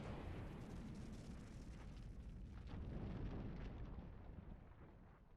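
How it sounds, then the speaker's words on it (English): Explosion in the video game Edge of Eternity, a loud, broad rumbling blast that roars steadily and then slowly fades. "An explosion."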